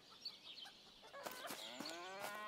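A bull moos in the farming video game Farmer's Life, a drawn-out low call that rises out of ambient farm noise in the second half, with faint fowl clucking earlier.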